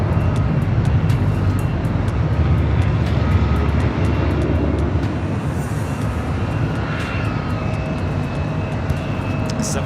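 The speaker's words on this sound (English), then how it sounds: "767 300 ER with Delta, heading to JFK." A Delta Boeing 767-300ER jet airliner roaring loudly and steadily near the airport at LAX, a broad continuous engine rumble and whine that holds throughout, with a faint voice underneath.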